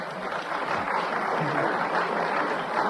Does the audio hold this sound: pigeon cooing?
no